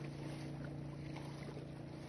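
A steady low engine drone runs without a break, like a boat motor humming close by, with a faint breathy hiss of wind over the top.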